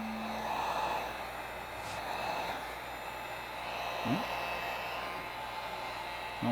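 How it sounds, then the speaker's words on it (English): A heat gun blows over a red and warm-toned acrylic pour painting, a steady airy whoosh held at an even, moderate level, with faint breathy sounds from a person nearby. "let's get the heat gun"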